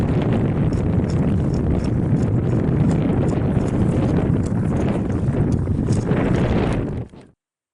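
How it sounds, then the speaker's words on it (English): Strong, continuous wind buffeting the microphone by a California river, loud and rumbling throughout before cutting off abruptly near the end. "Windy."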